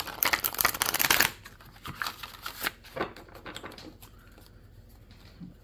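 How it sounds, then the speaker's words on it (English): Thoth tarot deck being shuffled by hand: a dense, close burst of rapid riffling card flutter for about a second, then scattered softer taps and slides of cards settling as the pace slows and fades. "Shuffle this one more time."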